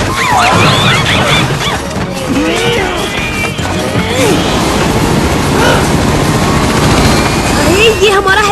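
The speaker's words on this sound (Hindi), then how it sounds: "अरे ये हमारा हेलीकॉप्टर चुरा रही है।" A cartoon helicopter being stolen, its whirring buried in a loud, busy mix of crashes and action effects, with characters talking over the commotion.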